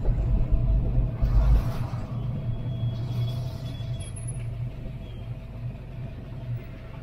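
A Ford Maverick V8 engine runs with a deep, heavy rumble, vibrating hard, with a louder low thump near the start before settling into a steady, throbbing drone.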